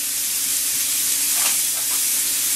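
Ribeye steak seasoned with salt and pepper searing on a grill, a steady loud sizzle and hiss with brief flares of crackle, heard alone without talk.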